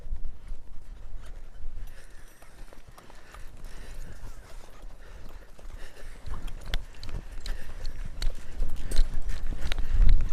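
Horse hooves clopping steadily as the horse is ridden out at a walk on its first ride, close by, with broadband rustle and a louder thump near the end.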